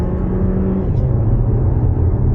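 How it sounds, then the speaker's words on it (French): An Alfa Romeo Tonale Q4 280 PHEV Veloce plug-in hybrid downshifts and accelerates, a steady loud low engine drone from inside the cabin with a slight rise in pitch. "Donc là je rétrograde et j'accélère."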